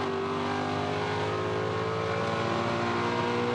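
Touring Car Masters race cars at Sandown roar continuously as engines rev hard under acceleration, a loud, close, unbroken whine with shifting pitch and no voices.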